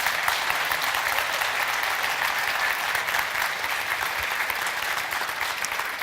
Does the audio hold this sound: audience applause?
yes